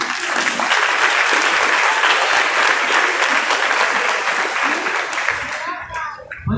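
A church congregation claps loudly and continuously in worship for Jesus, dense close applause that fades near the end as a voice begins speaking.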